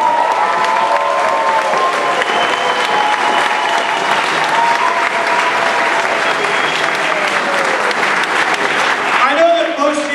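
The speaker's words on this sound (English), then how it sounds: "Big round of applause to Osbournes." Audience at a libertarian festival roast claps loudly and continuously with some cheering, a dense wash of applause lasting several seconds before fading as a voice resumes.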